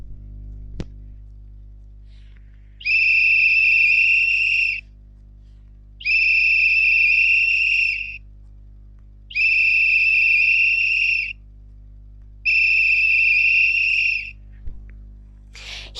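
Four sustained whistled tones, each about two seconds long, separated by short silences over a low steady hum.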